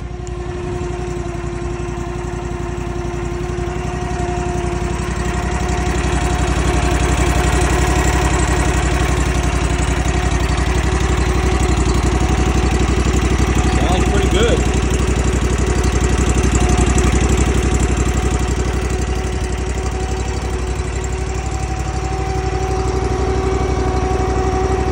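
A riding mower with an adjustable-height cutting deck idles steadily after a choke-assisted start, its engine a continuous mid-low drone with a slight swell in loudness partway through, close by and with no talk over it.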